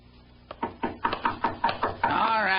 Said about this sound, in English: He'd heard a knock at the door, and he was on his way to answer it.